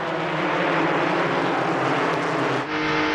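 A Toyota race car engine in the 2002 Goody's Dash Series at Daytona roars loudly at steady high revs, dipping briefly as the driver lifts off the throttle before resuming.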